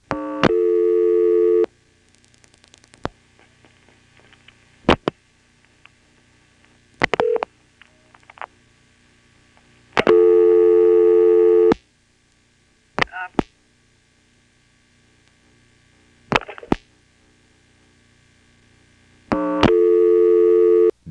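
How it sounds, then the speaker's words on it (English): Network tones sound as a telephone call is dialed through a 1977 NX1-E exchange in Vanceboro, North Carolina, onto a trunk line: loud buzzing tone bursts broken by clicks, short beeps and stretches of near silence, with no talk. "Let's try dialing 0, and then, once we connect to the trunk, dialing a 1."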